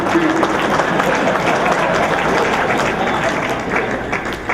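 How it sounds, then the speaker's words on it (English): Loud, dense applause from a crowd at a Western Pennsylvania sports hall of fame induction, acknowledging football officials; a continuous roar of many hands clapping close by, steady throughout. "Give them a round of applause."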